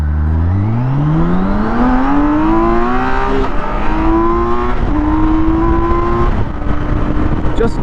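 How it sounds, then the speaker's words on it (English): A BMW K1600 sport-touring motorcycle launches from a standstill downhill, engine revving loud and close, pitch climbing steadily through the gears with brief dips at each shift, under heavy wind rush. "I'm gonna do my best to launch this bike from 0 to 60 as quickly as possible."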